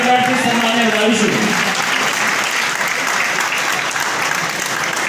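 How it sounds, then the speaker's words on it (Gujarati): A crowd claps through a Kheda district police honouring ceremony, a dense, even applause filling the whole stretch, with a voice trailing off over it during the opening second. "જોરદાર તાળીઓના ગણગણાટથી સન્માનને વધાવીશું"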